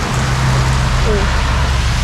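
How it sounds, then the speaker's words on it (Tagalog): Heavy rain pours steadily during a ride through Quezon, a dense, constant roar of water close by with a low engine-like hum running underneath. "Maliwanag siya pero ang lakas ng ulan."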